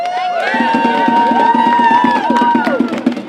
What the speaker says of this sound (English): Give a round of applause for Lakshmi, everyone.